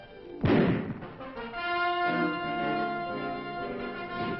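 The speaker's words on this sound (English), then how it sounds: "Flintlock ignited, single shot." A muzzle-loaded flintlock rifle fires a single shot, a loud, close boom followed by a ringing, tonal decay that lingers for several seconds.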